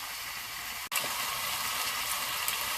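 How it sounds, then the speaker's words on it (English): Meat sears in a hot pan as a steady, moderate sizzle, briefly cut off by a short click near the start before the frying hiss resumes evenly, with no talking. "Now I'm going to let these sear for a bit, and then I'll flip them over."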